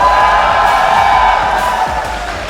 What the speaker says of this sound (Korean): 이 환호성 만끽하고 계시나요?